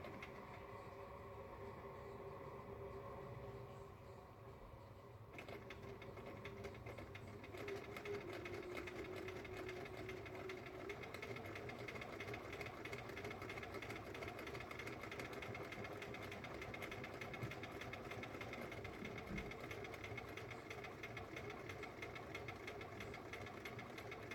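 A sewing machine runs steadily along the seam of a fabric Christmas tree stuffy, its rapid mechanical whir close and continuous, picking up slightly after a brief pause near the start.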